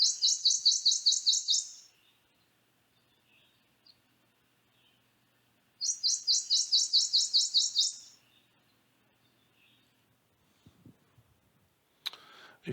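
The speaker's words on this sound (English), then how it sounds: "this is the Prothonotary Warbler, and they are songbirds that occur in mature bottomland hardwood forests near water" A Prothonotary Warbler, a songbird of mature bottomland hardwood forest near water, sings two bright, ringing bursts of rapid repeated notes about four seconds apart, clear and fairly close, followed by faint handling clicks.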